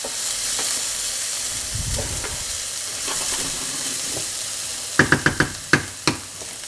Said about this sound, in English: So onions will do that once they get enough heat and once they fry enough.